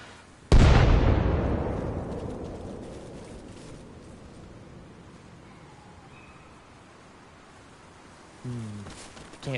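A single loud artillery shell blast in Arma Reforger erupts sharply and then rolls out into a long, slowly fading rumble, with a brief low mechanical thump near the end.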